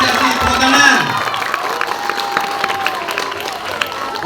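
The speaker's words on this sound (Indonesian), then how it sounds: "Beri apresiasi, tepuk tangan." Schoolchildren in a class 6A session on bullying clap in appreciation, a dense burst of applause with shouts and cheering over a lively room, loudest early then settling into steady clapping with voices mixed in.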